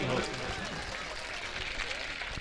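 Audience applause at an All India Mushaira poetry gathering in Lohta, Varanasi, a broad wash of crowd clapping filling the hall, steady and moderately loud.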